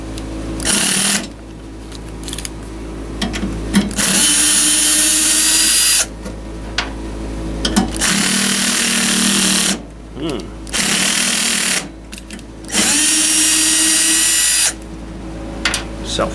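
Power drill driving self-tapping screws into a Mr Heater 50,000 BTU propane furnace in a shed: several whirring bursts of a few seconds each, separated by short pauses, close and loud.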